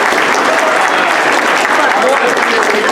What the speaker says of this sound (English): Give a round of applause for those 4 guys.